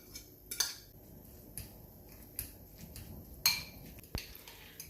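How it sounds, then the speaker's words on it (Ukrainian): A spoon works a cheese and mayonnaise mixture in a bowl, giving quiet soft stirring with a few sharp clinks and taps of metal against the dish. "І змішуємо із майонезом."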